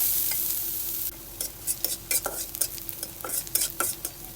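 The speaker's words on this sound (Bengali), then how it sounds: "এবার পেঁয়াজ ভেজে নেব" Onions fry in mustard oil in a hot wok while being stirred, a continuous close sizzle broken by rapid scraping strokes of a spatula against the metal, with no one talking.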